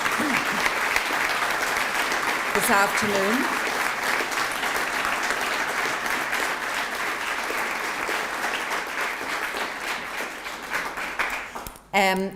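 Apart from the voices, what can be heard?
applause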